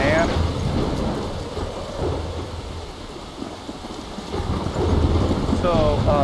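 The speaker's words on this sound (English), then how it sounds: "this rain, yeah, this rain looks like East Coast winter" Rain and thunder in the video game Life is Strange form a steady, loud downpour under low rumbling thunder, with the rumble swelling again toward the end.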